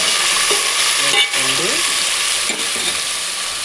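Three chopped tomatoes drop into a hot pan of fried onions and hiss steadily, a dense close sizzle with stirring running through it and no talk.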